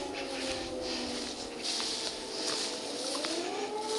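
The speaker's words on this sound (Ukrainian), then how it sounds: "Завили сирени повітряної тривоги." Air raid sirens wail steadily in the distance, their long rising and falling tones sustained throughout, with faint bird calls nearby.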